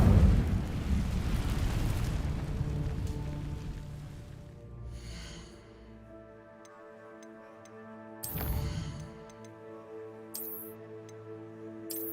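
An Incendio fire spell in Hogwarts Legacy sets dry vines ablaze: a loud, broad whoosh of flame that rolls into a crackling roar, fades to a low burning hum over a faint musical score, then gives way to sharp magical chimes.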